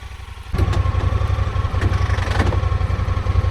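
A Honda side-by-side UTV's engine kicks in and runs with a steady, throbbing, slightly rough idle and mechanical clatter, close up and alone without voices.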